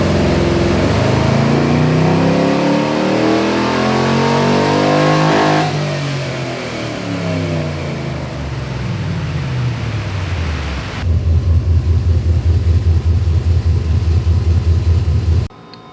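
A tuned car engine, from a Pontiac G8 or Chevrolet Silverado, revs hard on a dyno, its loud roar sweeping up through the gears, then easing into a rapid, pulsing idle before cutting off.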